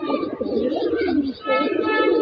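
A male pigeon at a loft gives a close, continuous rolling coo, repeated in throaty pulses with a brief pause midway, while a voice speaks faintly.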